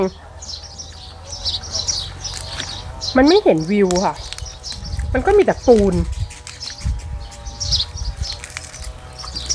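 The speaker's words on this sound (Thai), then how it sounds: "ธรรมชาติ เสียงนกอะเยอะมากเลยนะคะ" Birds chirp and tweet repeatedly outdoors while someone talks over them, with steady background ambience.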